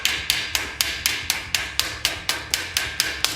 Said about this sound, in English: So I'm just using the ball peen and I'm kind of skating off the edges of the rivet there